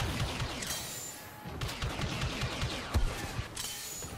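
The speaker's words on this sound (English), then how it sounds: "this guy's got a really explosive gun." Explosive gunfire from a Star Wars Battlefront II battle on Endor, with dense overlapping shots and blasts crackling steadily through a busy, chaotic mix of distant and nearer fire.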